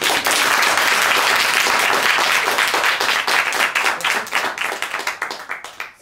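Audience applause for a guilty verdict in a mock small-claims court vote, dense steady clapping from a crowd that thins out into scattered claps toward the end.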